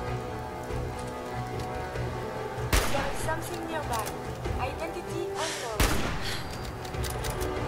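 Automated turret gunfire in Fallout 4 at a National Guard training facility: two sharp, loud shots a few seconds apart over a steady, rain-like hiss of game noise.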